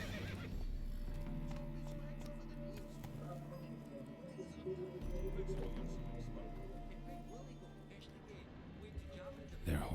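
A horse in The Witcher 3 video game whinnies and its hooves clip-clop steadily over a low music bed, with voices talking throughout.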